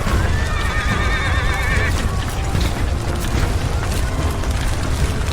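Horses whinny loudly over a steady rumble as hooves clop on soft, sinking ground, with a cart and travellers nearby on a mountain crossing.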